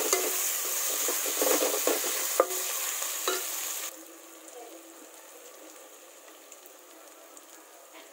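Tomatoes stirred into a pan with ginger and garlic, a loud broadband frying hiss with scraping stirs for about four seconds, then the sizzle drops to a quieter, steady simmer.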